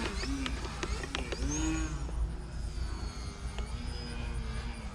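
A small 3D RC plane flies close by, its engine buzzing steadily with rising and falling pitch sweeps as it maneuvers, loud and continuous throughout.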